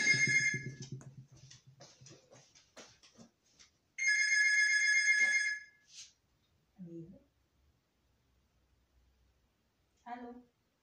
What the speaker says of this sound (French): que le téléphone sonne chez moi